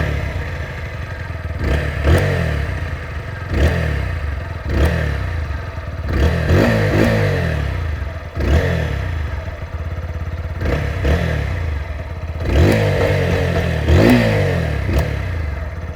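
A 2021 TVS Apache RTR 160 4V motorcycle idles loud and close, its engine and exhaust rising in several sharp revs roughly every two seconds over a steady rumble.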